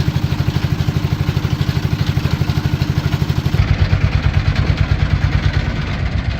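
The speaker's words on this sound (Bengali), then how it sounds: "আমরা ছোট একটি ট্রলার নিয়ে চলছি" A small trawler boat's engine at sea chugs in a fast, even rhythm of heavy low thumps, loud and close throughout, and grows somewhat fuller and rougher partway through.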